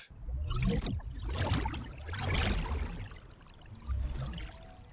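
A water spell effect from the original Overwatch video game: swelling, splashing watery whooshes in several surging waves, loud and close with a rushing, pouring texture and no voices.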